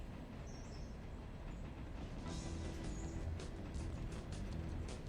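A train rumbles along steadily in the railroad video game Railroader, a continuous low running noise with light clicks and squeals over it, no voices.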